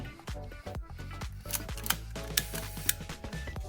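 A Canon QL17 film camera fires its shutter repeatedly during a speed test, giving faint, crisp mechanical clicks and short winding ticks at close range.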